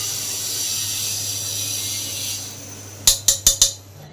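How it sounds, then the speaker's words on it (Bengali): A spoon tapping a pot four times in quick succession while adding fried spice mix to khichuri, sharp metallic clinks near the end after a steady background hiss. "এবার যে ভাজা মশলাটা ভেজেছি সেটা 1 চামচ দিয়ে দিলাম।"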